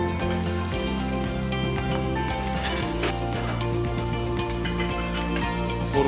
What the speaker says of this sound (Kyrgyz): Андан кийин боорду салып, кууруп алабыз.